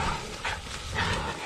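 A hunting dog makes a couple of short, breathy yips or whines up close, coming in quick bursts over a brief noisy outdoor moment.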